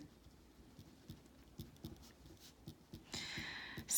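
Pen writing on paper while working a geometry practice test, a faint, close, steady scratching with small rhythmic strokes and a brief louder rustle near the end, no talking.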